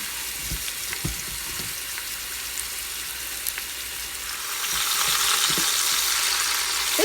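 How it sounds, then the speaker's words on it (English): A heavy, partially frozen chuck roast searing in a very hot pan gives a continuous crackling sizzle with scattered pops. The hiss swells noticeably louder partway through and stays strong to the end. "Let's go ahead and sear it."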